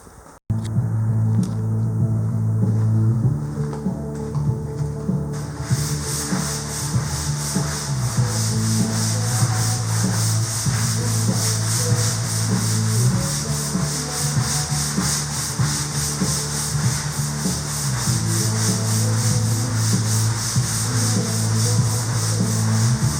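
A garage floor is scrubbed down with degreaser, a continuous close rubbing and scraping in repeated strokes over a low steady hum and rhythmic throbbing, no talking.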